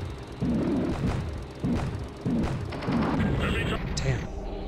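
Rapid enemy gunfire in the Urban Assault video game, a string of heavy booming bursts repeating every half second or so, loud and close, with a brief higher-pitched effect near the end.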